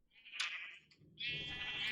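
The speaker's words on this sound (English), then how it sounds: "Here's the top of that sheep farm" Sheep on a sheep farm in Minecraft bleat twice in quick succession, close and clear, with a short pause between the calls and no talk.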